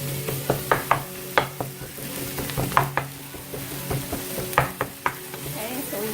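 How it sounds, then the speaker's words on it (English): Vegan ground beef substitute searing in a pan for burritos, a soft steady sizzle under repeated sharp scrapes and taps of a utensil stirring and pressing the crumbles, close and moderately quiet. "So you want to let it sear just a little bit and then smush it up."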